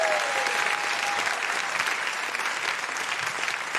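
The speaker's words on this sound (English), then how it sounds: "Big round of applause for Aidan" A live comedy show audience in Perth, Australia applauds for Aidan, a steady dense burst of clapping from a full room, loud and even throughout with no talk over it.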